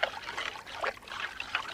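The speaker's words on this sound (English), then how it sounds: "Then we go with some water." Water pouring in a thin trickle into a ground almond soup mixture while cooking, a soft brief splash and dribble at close range, with no talking.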